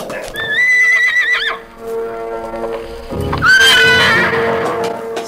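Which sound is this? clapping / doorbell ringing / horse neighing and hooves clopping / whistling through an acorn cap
horse neighing and hooves clopping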